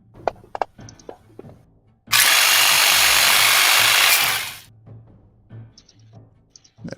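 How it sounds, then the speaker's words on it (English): A Fallout Ripper blade weapon attack effect plays in a tabletop game session as a loud, steady mechanical buzzing whir that lasts about two and a half seconds, then fades, with quieter clicks before and after. "This guy will target wrench using the Ripper"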